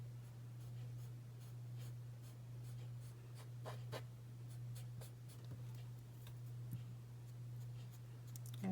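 Charcoal stick scratching and stroking across paper while shading a wolf's eye, with soft repeated close strokes and a few sharper ticks over a steady low background hum.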